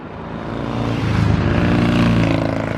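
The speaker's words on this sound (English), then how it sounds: "We've got the classic motorbikes whizzing past now." Classic motorbikes whizz past at a vehicle meet outdoors, a rising engine roar that builds over the first second and then holds loud and steady with a rough, throaty drone.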